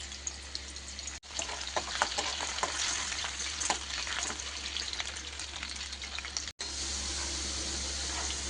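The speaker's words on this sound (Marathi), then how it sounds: "तर आता तेलामध्ये आपण हा बटाटा मस्तपैकी छान असा फ्राय करून घेणार आहोत।" Potato pieces fry in hot oil for poha, a steady, dense close sizzle with scattered crackles that runs throughout, broken by two brief dropouts, with no voices.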